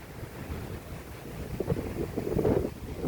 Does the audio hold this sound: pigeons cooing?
no